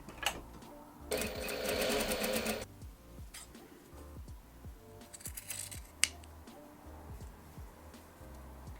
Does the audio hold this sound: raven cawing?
no